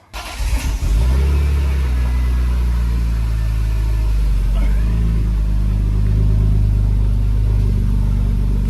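A BMW E36 M3 that has had a manual swap starts up and runs loudly nearby on its first test drive, settling into a deep, steady engine rumble after a brief rough burst.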